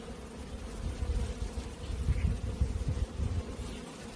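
Honey bees hum in a low, steady drone inside a hive with a young mated queen laying eggs, a close, continuous buzzing that swells and fades slightly.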